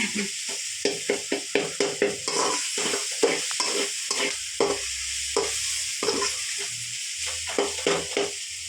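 Food sautéing in a pan with a constant background sizzle, broken by a brisk, regular series of spoon scrapes and clacks from stirring, close up.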